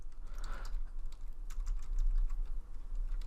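Steady typing on a computer keyboard, a quick run of soft, close key clicks over a low background hum, with no talking.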